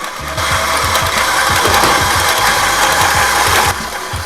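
Electric stand mixer whirring steadily while beating brown butter cookie dough, a loud continuous motor drone with a faint rhythmic churn, switching on sharply and cutting off near the end.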